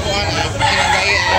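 A rooster crows at a busy chicken market in Carbon, Cebu, with a drawn-out, strained call close by over a dense background of other fowl and crowd noise, with no clear break in the sound.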